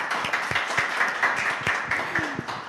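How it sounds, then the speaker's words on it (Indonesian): Handclaps from an audience during an Indonesian startup innovation talk session: a sparse, uneven patter of individual claps, fairly close and moderately loud, with no talking. "Tepuk tangannya mana nih?"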